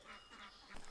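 Guard geese give a brief, faint honking call in under a second, a nasal squawk rising at the end against a quiet outdoor background.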